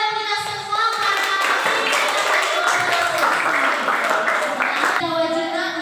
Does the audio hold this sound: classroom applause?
yes